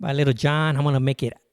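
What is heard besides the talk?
No everyday noises stand out.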